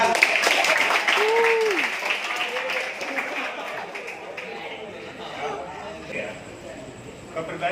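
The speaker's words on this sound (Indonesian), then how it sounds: "Tepuk tangan." Clapping and applause from a group of young football players at a santri league event, a broad steady patter with voices and chatter mixed in, fading slightly toward the end.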